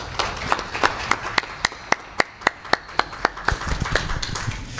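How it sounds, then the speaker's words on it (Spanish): Audience applause following a lecture at a workshop on cybercrime and computer forensics: sparse, distinct claps at a steady uneven rhythm, moderately close, with a bright crackle of scattered hands beneath louder individual claps, no talk. "Un aplauso para todos ustedes."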